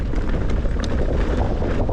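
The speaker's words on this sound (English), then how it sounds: "It is quite windy." Strong wind buffets the microphone on a mountain bike downhill trail at Twin Buttes in Durango, Colorado, a steady loud roaring rumble with no letup throughout.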